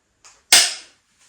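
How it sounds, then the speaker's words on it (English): One sharp, loud mechanical click snaps out from a FIIDO X folding e-bike's lock engaging on switch-on, preceded by a faint soft click and followed by a brief fading rattle, with no voices. "when you first switch it on, if it's in its lock mode, it really does click and make you jump"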